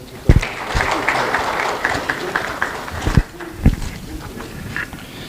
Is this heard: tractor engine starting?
no